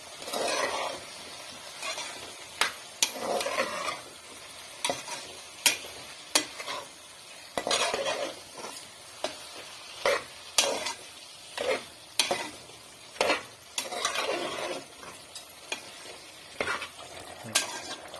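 Baby corn masala curry being stirred in a pan, a spoon scraping and knocking in repeated strokes over a quiet simmering sizzle, close and clear with no talking.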